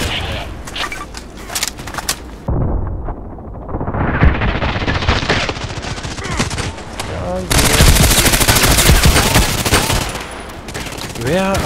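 Gunfire in the online shooter Contract Wars: loud rapid bursts of automatic fire at close range, with some booming hits and a long sustained burst in the second half, and talking in between.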